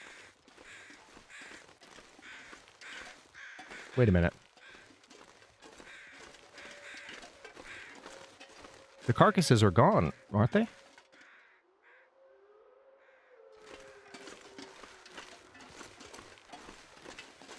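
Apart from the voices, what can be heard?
crows cawing in video game The Long Dark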